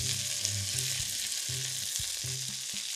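Fish fillet, skrei cod, frying crisp in a hot pan, a steady close sizzle with brief stirring and turning noises, no voices.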